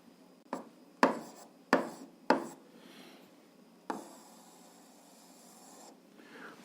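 A pen taps and scratches on paper while an algebra solution is written out, with several sharp strokes in quick succession, then a longer, softer scratching run, close and quiet.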